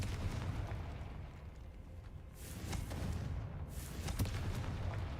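A Confringo blasting spell in the Hogwarts Legacy video game sets off booming explosions, two heavy bursts rising over a continuous rumbling battle din.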